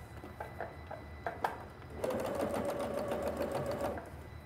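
A sewing machine with a walking foot stitches a pleat on a quilt. A few light clicks come first, then a steady, fast mechanical whirr of stitching runs for about two seconds, quiet and close.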